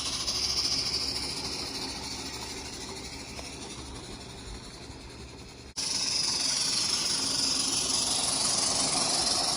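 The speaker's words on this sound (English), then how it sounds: "Live steam at its finest." Steady broadband hiss from a live steam model locomotive on a garden railway layout, continuous throughout and swelling louder partway through, with a low mechanical rumble beneath and no talking.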